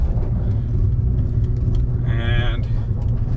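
A 2022 Nissan Frontier Pro-4X works its engine at full throttle around 2,500 RPM off road with traction control off, a steady loud rumble under continuous talk, with a brief rising whine near the end.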